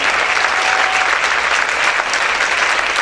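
A church congregation claps loudly and continuously, a dense even wash of applause with no pauses.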